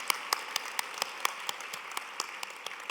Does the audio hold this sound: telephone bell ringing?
no